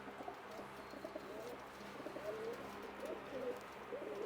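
A pigeon coos softly in repeated low, throaty phrases, fairly faint against a quiet background hum.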